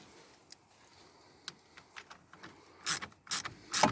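Battery terminal nut on a 2020 Skoda Citigo e-iV being retightened with a hand tool: a few faint scattered metallic clicks at first, then three louder close ratcheting bursts toward the end.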